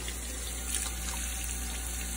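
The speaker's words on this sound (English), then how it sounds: "maybe we should just turn the hot water on her." Water pours steadily from a tap into a sink in a continuous, unbroken rush at moderate loudness, with no voices over it.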